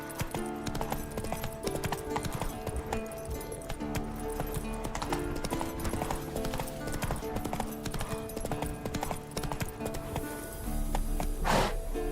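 Roach, a horse in The Witcher 3, gallops with steady rhythmic clip-clop hoofbeats over game music and ambience, a brief whinny near the end.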